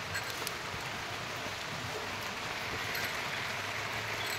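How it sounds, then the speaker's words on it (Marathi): Light rain falls outside near a goat shed, a soft, even hiss of drops steady and faint in the background with no talking. "पाऊस सुरू झाला आहे थोडा थोडा बाहेर बघू शकता तुम्ही"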